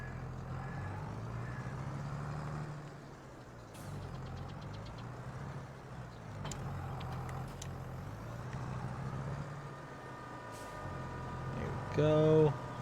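A tractor engine in the Farming Simulator 22 video game runs at a steady mid-pitched idle and rumble through most of the stretch, with brief mechanical clanks and a louder surge near the end.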